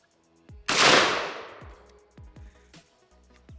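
A single loud shotgun blast from a cheap shotgun fired at clay targets outdoors, a sharp crack followed by a long decaying boom, then a few softer thumps and clicks as the gun is handled.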